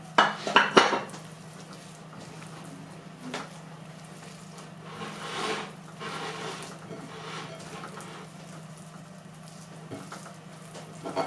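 A spoon clatters and scrapes against a pot while chicken rice stuffing is stirred with butter and onions, with sharp metallic clinks at the start and then softer, irregular scraping and stirring.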